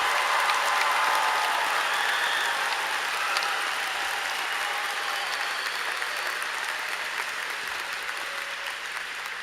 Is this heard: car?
no